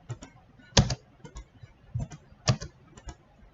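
Keys clicking on a computer keyboard while entering AutoCAD commands, with sparse, close taps that include a few louder strokes, spaced irregularly, and no one speaking.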